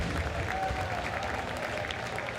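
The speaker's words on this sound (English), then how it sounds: "You can hear the rounds of applause in the grandstands there" A crowd in the race grandstands at Misano applauds, a steady wash of clapping heard from a distance with no break.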